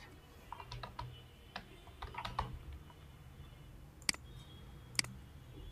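Code is typed on a computer keyboard in short bursts of quiet key clicks with pauses, ending in two sharper isolated key strikes, close and faint against a low background hum, no speech.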